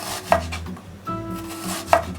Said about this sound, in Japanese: Cortamos en trozos pequeños y lo más fino posible